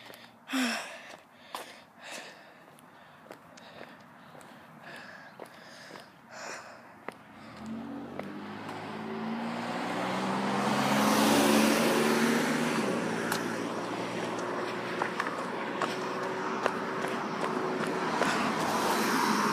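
Cars drive in a video game: a scattered rustle at first, then a swelling broadband engine and road rumble that grows louder and keeps going to the end.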